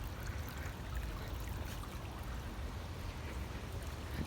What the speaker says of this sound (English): So you can see the water is still flowing.